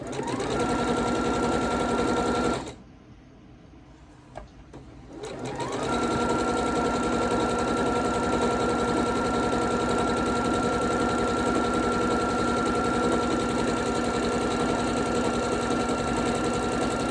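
A sewing machine stitches chicken-pattern quilt blocks in a steady, loud, continuous whir, pausing briefly for a couple of seconds before running on evenly to the end.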